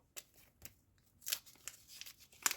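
A small paper surprise packet is opened up close, giving quiet crinkles, rustles and a few sharp snips or tears scattered unevenly, with no talking.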